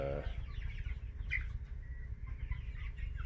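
Chickens cluck softly and intermittently in a sealed coop, low and muffled, with a faint steady hum underneath.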